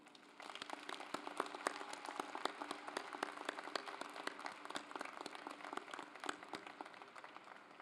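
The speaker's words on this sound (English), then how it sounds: "Please join me in giving another round of applause for Dr. Stephen H. Kaplan." Steady applause from a seated crowd at a university commencement ceremony, heard at a distance as a dense, even patter of many hands that holds without a break.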